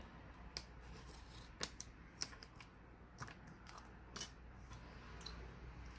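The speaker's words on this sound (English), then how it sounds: "I'm going to cut an X from one end to the other inside it." Several crisp snips from scissors cutting through foam tape, irregular and close, set against a quiet background with no voices.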